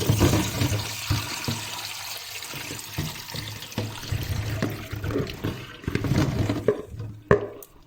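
Washed strawberries tipped with their water into a colander, a close rushing pour and splash of water with soft thuds and drips, fading to scattered trickles before a final clatter.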